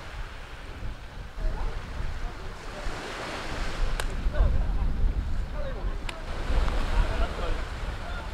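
Sea waves wash steadily against the shore in a continuous broadband rush, with wind buffeting the microphone, loud and close, with no talk.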